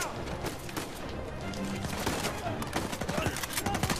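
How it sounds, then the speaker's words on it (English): Rapid gunfire crackles through a firefight in the video game Uncharted 4, dense overlapping shots and bursts repeating loudly over a busy backdrop of game sound. "Why is everybody shooting at me?"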